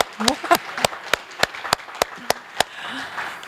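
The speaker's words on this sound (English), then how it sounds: "Let's give a big round of applause to science and people." A small audience at a Darwin Day science talk claps in sparse, evenly spaced sharp claps rather than a full roar. A voice is briefly heard near the start.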